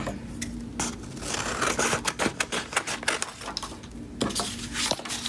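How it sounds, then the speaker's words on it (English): Crisp, repeated snipping of scissors through paper, close by, in an irregular run of short cuts with a few brief pauses, no talking. "And I'm just gonna cut it with the scissors."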